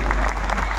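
Applause from an audience at a speech event honoring a musician, a brief dense burst of clapping filling the hall at steady loudness with no gaps.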